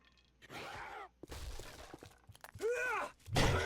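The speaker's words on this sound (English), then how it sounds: "Oh, I hear somebody breaking in." In the survival game 7 Days to Die, something breaks into a base: sharp shattering and breaking crashes and thuds come in short bursts, mixed with groaning, zombie-like vocal cries between the impacts.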